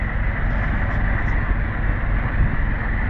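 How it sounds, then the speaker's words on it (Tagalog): A boat engine runs after an overhaul, a loud steady drone with wind buffeting the microphone close by. "Tuloy-tuloy pa din mga kabisig ang tunog ng ating makina."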